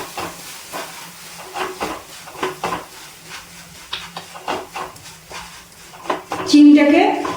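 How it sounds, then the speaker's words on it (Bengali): Melting sugar being stirred in a pan for caramel, a quiet scraping and shuffling with a faint hiss, under ongoing talk, swelling into a louder sizzle near the end. "চিনিটাকে নাড়াচাড়া করতে করতে গলিয়ে নিয়ে ক্যারামেল তৈরি করে নিচ্ছি।"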